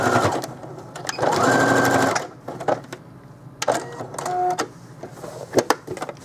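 A sewing machine stitches down the elastic waist of a cotton slip in a fast, steady burst of about a second. It stops, then comes a few short taps and a brief second run, with no talking.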